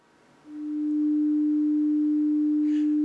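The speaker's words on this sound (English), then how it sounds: "Now that sound is a very, very pure tone, we call it." A steady pure sine-wave tone begins just under half a second in and holds unbroken at an even, fairly loud level to the end, alone with no voices.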